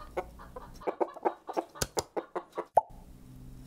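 A chicken clucks in a quick, uneven run of short, close clucks that ends in one higher, drawn-out note, with nothing else audible.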